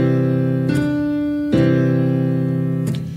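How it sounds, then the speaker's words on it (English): A piano plays the opening notes of a practice exercise: three sustained notes or chords struck one after another, each ringing clearly and close, with no talking. "So we add this next note of the example. So it just sounds like this."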